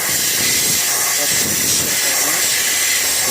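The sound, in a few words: air compressor blowing dust off filter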